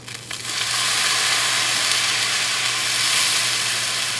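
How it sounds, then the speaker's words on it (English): Wine poured into a very hot pan bursts into a loud, steady hiss of sizzling steam that starts abruptly and holds evenly throughout, with no talking. "I'm just gonna try and deglaze it with this wine"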